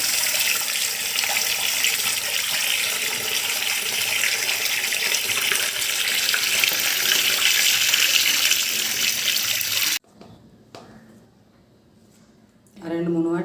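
Tap water runs loud and steady for about ten seconds while fish is washed with salt and turmeric, then it cuts off, leaving quiet handling sounds and a brief voice at the end.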